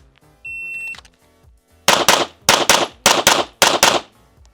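On a USPSA practice range, a shot-timer beep is followed by pistol fire in quick doubles: five tight pairs of loud, sharp cracks evenly spaced, close by with no talking.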